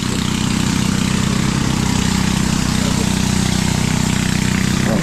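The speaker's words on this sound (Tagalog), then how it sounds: "Yan, tuloy-tuloy na po ang ano, ang giik ng makina." A rice threshing machine runs loud and close during a harvest, threshing damp palay with a constant, heavy mechanical drone and steady hum that never lets up.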